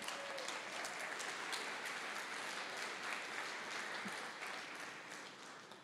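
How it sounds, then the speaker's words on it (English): An audience at a live climate technology event applauds, a continuous, fairly faint wash of clapping from a crowd that fades slightly near the end. "So let's, round of applause for Greentown."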